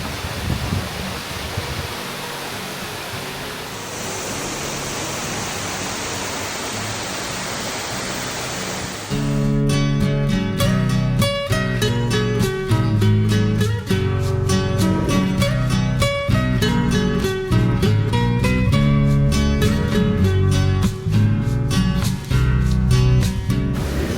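A waterfall pours as a constant, dense hiss of rushing water for several seconds before music takes over and plays on top of it.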